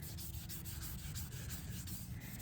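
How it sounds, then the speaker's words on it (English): Rhythmic back-and-forth rubbing of wet sanding car paint by hand with fingers, a gritty scrape repeating steadily at close range with no talking. "we'll just kind of sand this by hand with our fingers"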